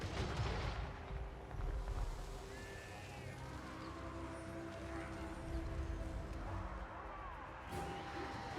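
Ranged units firing in a Total War Warhammer 3 battle, a dense rolling barrage of distant volleys and booms under a busy battlefield din, with a voice talking over it.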